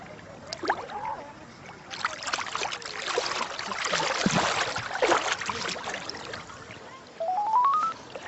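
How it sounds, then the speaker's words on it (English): A mobile phone ringtone sounds while someone floats in the Dead Sea, coming in as a short rising electronic melody near the end after a stretch of water and outdoor noise. "Phone."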